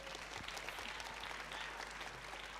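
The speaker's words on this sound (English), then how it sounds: "that calls for a big, big round of applause once again" Audience applause at a school valedictory ceremony in Bangalore, a steady, dense wash of many hands clapping at moderate distance with no voices above it.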